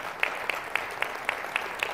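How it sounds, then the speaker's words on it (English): Clapping at a high school block schedule information night comes in an even, rhythmic beat of about four claps per second, fairly faint over a soft room background. "Can you give a round of applause for my awesome administrative team over there?"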